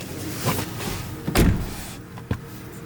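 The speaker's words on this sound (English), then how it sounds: "Power opening and closing trunk. Push button to close." The power trunk of a 2021 Mercedes-Benz GLC 300 Coupe 4MATIC closes with a steady motor whir, then a solid thud as it latches and a smaller click shortly after, heard up close.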